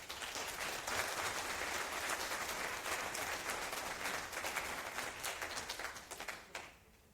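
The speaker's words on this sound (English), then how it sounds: "please give the Brest team another round of applause" Steady applause from a conference audience at a DebConf session, a dense wash of many hands clapping together that carries on evenly and then fades quickly near the end.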